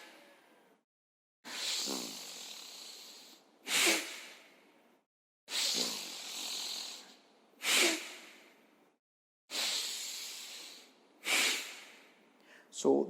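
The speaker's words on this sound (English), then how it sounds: "So some sound of the breathing, your breathing should be audible." Forceful bhastrika pranayama breathing in a yoga class: loud, rhythmic, rushing breaths through the nose in about seven strong bursts separated by short pauses, close up and without other sounds.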